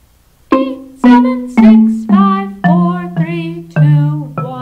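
Eight plucked notes step downward one after another at an even pace, each ringing briefly, forming a falling scale.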